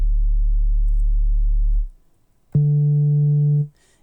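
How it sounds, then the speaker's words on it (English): A pure electronic sine tone from a sampler holds steady, cuts out, then a second sustained tone at a different pitch begins abruptly and stops. "what I have here is a sine wave,"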